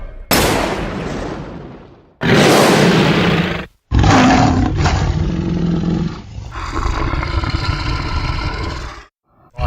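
A tiger roars in the forest in a dramatized Thai tale of a dog hunting a tiger, with three loud, harsh, broadband bursts. A sustained growling rumble follows, close and alone without talk.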